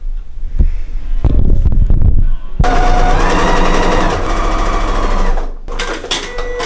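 A sewing machine stitching a folded apron hem on vintage linen, close and loud, with a few brief starts and then a long steady run of rapid needle clatter before stopping.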